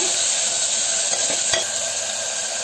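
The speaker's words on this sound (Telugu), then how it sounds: "ఆనియన్స్ ఫ్రై చేసుకుందాం." Onions fry in hot oil with a loud, continuous sizzle, punctuated by the scrape of stirring and one sharp utensil knock near the middle.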